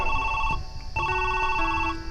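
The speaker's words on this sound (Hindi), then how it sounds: "उन्होंने घर पर फोन लगा दिया।" A telephone rings at home in a told story, two clear electronic ringing bursts separated by a brief pause, loud and close.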